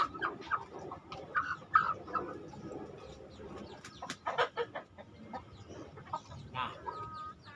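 Bangkok-breed chickens cluck and murmur in a yard, with soft irregular clucks, coos and clucking calls at moderate distance over quiet background noise, no talk.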